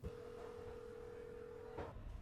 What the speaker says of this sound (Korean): 먼저 아빠에게 전화를 겁니다